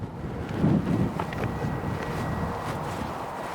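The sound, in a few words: wind blowing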